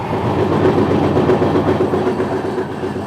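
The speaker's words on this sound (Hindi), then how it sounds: "तो अभी क्रॉस हुई है वंदे भारत एक्सप्रेस।" A Vande Bharat Express rushes past on the line, making a loud, continuous rail roar with rhythmic wheel clatter that holds steady across the whole stretch, close and without voices.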